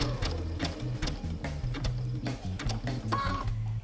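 A sewing machine runs in short stop-and-go bursts while stitching raw-edge applique, a close rhythmic mechanical whirring broken by brief pauses to pivot the fabric.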